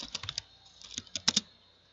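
Keystrokes on a laptop keyboard entering switch configuration commands in a networking lab, a quick irregular run of close, crisp clicks with short pauses between bursts.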